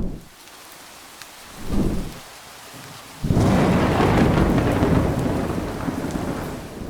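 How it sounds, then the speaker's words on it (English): Rolling thunder in a Minecraft game with a realistic sound-physics mod, two low rumbles early on and then a loud sustained crash that carries over steady rain and slowly fades, with no talk. "With this mod, thunder now has a realistic sound physics."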